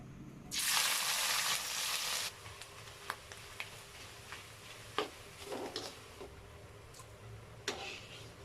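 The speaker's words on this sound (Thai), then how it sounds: "ทอดกุ้งแห้งค่ะ" Dried shrimp drop into hot oil with a loud burst of frying that lasts under two seconds, then settles into scattered crackles and pops amid quiet kitchen background, with no voices.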